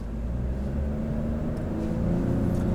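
Chevrolet Malibu 1.35T mid-size sedan with a three-cylinder turbo engine pulling away, a steady low engine rumble and whir close up inside the cabin, building slightly as it accelerates.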